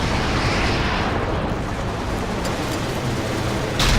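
Continuous heavy rumbling bombardment in the war game Battlefield Iraq, a dense roar of explosions with no pauses, ending in a sharper crack near the end.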